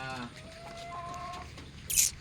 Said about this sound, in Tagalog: Ito naman yung mga kurkukok.